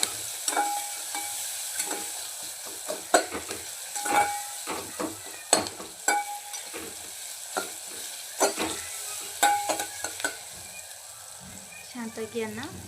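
Onions frying with salt and turmeric in a pan for mutton handi sizzle steadily while a spoon stirs and scrapes in repeated sharp strokes, close and clear, with a voice talking intermittently over it.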